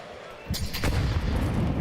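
A grenade bursts in Counter-Strike 2 during a pro match between NaVi and G2 at the PGL CS2 Major in Copenhagen: two sharp blasts close together, then a loud rumbling tail that holds to the end, with a commentator's voice under it.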